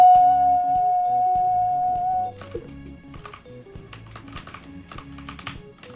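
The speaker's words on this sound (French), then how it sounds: "Vous entendez les bruits de mon clavier?" Computer keyboard keys clack in quick irregular bursts while Minecraft is being played, close and moderately loud, following a fading game tone at the start.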